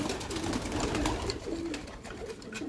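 Pigeons in a loft cooing softly, a few low rolling coos close by over a faint background hum.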